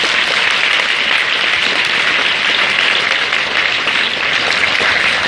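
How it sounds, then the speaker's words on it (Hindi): Loud, steady applause from a crowd, dense clapping that holds evenly for several seconds without pause. "जोरदार तालियां उनके लिए।"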